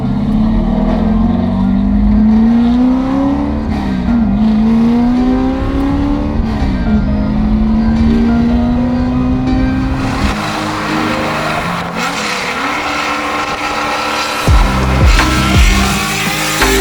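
Loud NASCAR Ford F100 race truck accelerating hard from inside the cab, the engine note climbing through gears with long rising pulls, brief lifts between shifts and some rattling toward the end.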